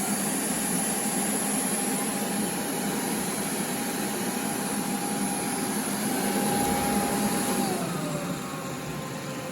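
A BISSELL ICONpet robot vacuum cleaner runs with a continuous whirring motor and a high steady whine, its pitch dropping slightly near the end as suction changes.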